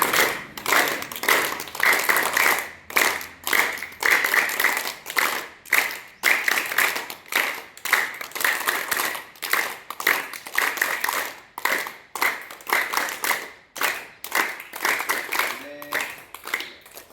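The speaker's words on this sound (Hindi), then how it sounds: "नेक्स्ट अभ्यास ताली वादन" Group of people clapping hands together as a yoga class exercise, a rhythmic series of loud, repeated claps with brief pauses, in a village morning yoga session.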